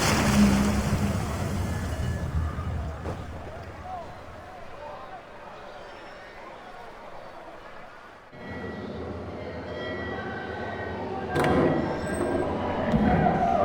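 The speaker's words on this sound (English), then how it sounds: "Enjoy this stretch of open water before we come upon those shallows." Sailing ship on open sea in Assassin's Creed III, with a broad wash of waves and rushing water swelling and easing, a quieter stretch midway, and occasional voices mixed in.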